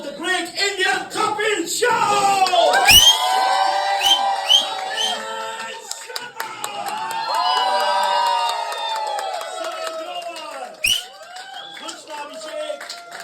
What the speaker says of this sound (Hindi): I would request you all to put your hands together.